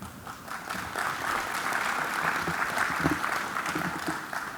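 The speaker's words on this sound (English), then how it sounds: "Are you clapping because I walked up here" Steady applause from a trade show conference audience fills the whole stretch, many hands clapping at a moderate, even level without letting up.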